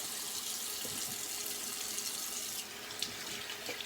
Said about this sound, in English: And we'll go with the cold water rinse.